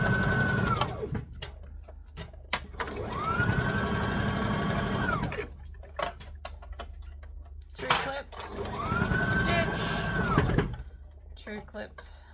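A sewing machine stitches pink dress fabric in three close, steady runs, each a few seconds long, separated by quiet pauses with small clicks and handling noises.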